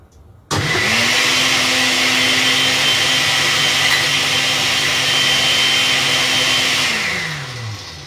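A blender whirs loudly and steadily, mixing a pineapple, orange and oats smoothie. It starts abruptly, holds an even motor roar for about six seconds, then winds down as it switches off, with no talking.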